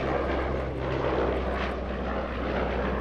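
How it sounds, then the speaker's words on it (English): A vintage black propeller aeroplane makes a slow, low-speed pass at an airshow, its engine drone steady and fairly loud throughout with no talk. "we can give you a glimpse of just how slowly this aeroplane can fly in this low-speed pass"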